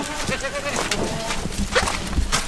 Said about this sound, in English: get these goats fed real quick.